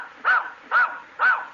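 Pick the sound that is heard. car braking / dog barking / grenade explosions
dog barking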